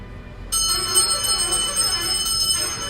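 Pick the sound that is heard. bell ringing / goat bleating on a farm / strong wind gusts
bell ringing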